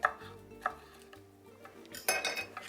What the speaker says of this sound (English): you want to just go ahead and chop these up